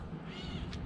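A house cat gives a single short meow, a brief nasal cry rising near the end, heard close over a steady background hum.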